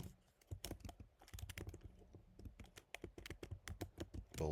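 Fingers type on a computer keyboard in quick, uneven bursts of crisp key clicks, close and fairly quiet, with short pauses between runs of keystrokes.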